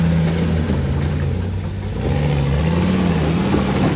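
An off-road rock crawler's engine hums steadily and then rises in pitch as it revs, loud and close, on a wet rainforest trail.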